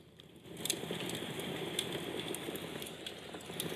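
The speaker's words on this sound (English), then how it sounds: "So fire is working" Fire crackling ambience from the iOS 18 built-in background sounds, played through a phone: a steady soft bed of low rumble with scattered sharp pops and crackles, moderately quiet and continuous with no talking.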